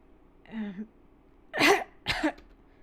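A video game character gives a brief throaty grunt followed by two harsh coughs, close and fairly loud, with silence between them.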